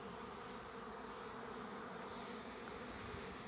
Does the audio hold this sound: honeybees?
yes